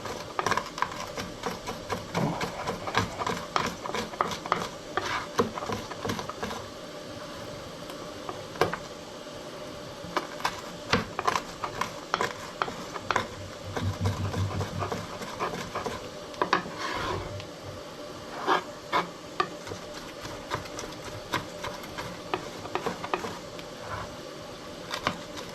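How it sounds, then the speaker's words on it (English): Garlic minced with a knife on a wooden board, fast repeated chopping taps in dense, uneven bursts that continue steadily throughout, close and fairly loud, with no talking. "Okay, I'm gonna mince the garlic."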